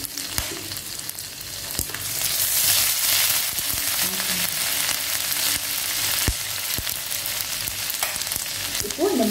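Cumin seeds and freshly grated ginger dropped into hot oil as tempering for millet ven pongal, a loud continuous sizzle with occasional sharp stirring clicks and spoon taps, no talk.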